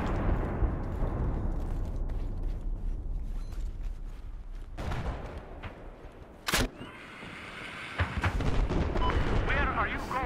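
Mortar blasts and gunfire in a combat video game, with rumbling explosions and sharp cracking shots scattered throughout, while a player talks over the action.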